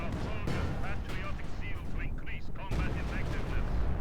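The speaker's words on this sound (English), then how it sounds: "B4 shoots here, fairly close quarters barrage." A B4 howitzer barrage in Company of Heroes 2 sounds as heavy booming shell blasts and gunfire rumbling under a commentator talking steadily over the battle.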